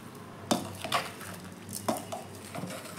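Lemon chilli pickle is stirred in a metal pot, giving a few close, distinct scraping clinks of a spoon against the pot over a quiet background.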